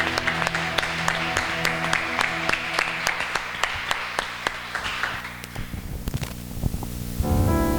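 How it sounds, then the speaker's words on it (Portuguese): A church congregation claps in a steady rhythm over worship music, with sharp, regular beats that fade slightly toward the end. "Aplauda o nome de Jesus."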